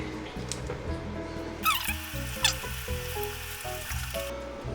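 An egg drops into a hot pan for Filipino Christmas cooking and sizzles, a crackling hiss rising sharply partway through, with brief bright spatters over a steady low background hum.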